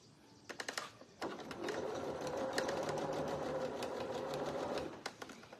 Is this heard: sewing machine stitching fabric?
yes